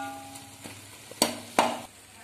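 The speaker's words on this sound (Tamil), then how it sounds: "தக்காளி வந்து வதங்கிட்டு இருக்கேன்." Tomatoes sauté in a pan for vallarai keerai greens rice, a faint low sizzle broken by a couple of sharp spoon scrapes and clinks near the middle, close by with no talking.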